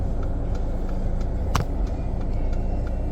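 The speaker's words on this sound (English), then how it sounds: "There's tons of traffic." Steady road traffic rolls past at close range after severe thunderstorms in Clear Spring, Maryland, a continuous broad car-engine and tyre rumble with one brief sharper passing swell midway.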